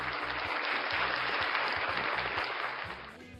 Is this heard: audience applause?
yes